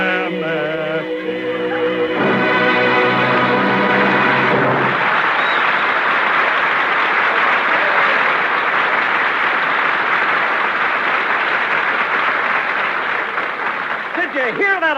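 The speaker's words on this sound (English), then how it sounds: "Did you hear that applause, Jack?" Audience applause at a live radio theatre performance breaks out after a few seconds of voices and music, then swells into loud, sustained clapping from a full house that carries on to the end.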